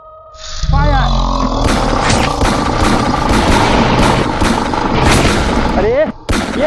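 A horror movie battle scene with loud, sustained gunfire: rapid automatic bursts and booming shots run unbroken for several seconds. Voices are mixed in with the shooting, and a whooshing effect sweeps through near the start and end.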